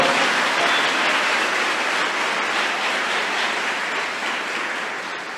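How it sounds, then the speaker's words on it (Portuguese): Steady, sustained applause fills a church congregation, a broad wash of many hands clapping at once, loud and even throughout and slowly tapering near the end. "Então dê a Ele um forte aplauso"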